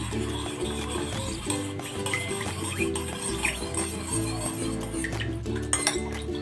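Sauce of cornstarch and water being mixed in a bowl, a spoon clinking and scraping against the bowl in quick irregular taps over a steady low kitchen hum, with no talk.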